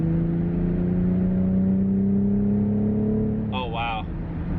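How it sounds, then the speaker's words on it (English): BMW X5 xDrive40i SUV with a 330-horsepower engine, heard from inside as a steady engine drone whose pitch rises and then steps down with the downshift, the exhaust note swelling slightly louder, with a brief voice near the end. "you can hear right away it switches, it downshifts, and the exhaust gets a little bit louder"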